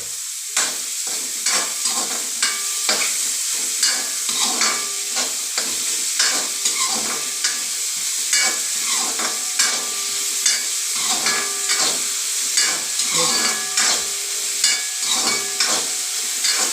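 Chopped onion sautéing in oil with a pinch of salt in a pan, a steady close sizzle broken by frequent scraping stirs of the spoon against the pan, repeated throughout without a break.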